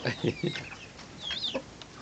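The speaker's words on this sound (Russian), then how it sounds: "Вот она, вот курочка." Soft clucks and short vocal calls from a broody hen kept with chicks, a few quick clucks followed by a rising call, fairly close but quiet.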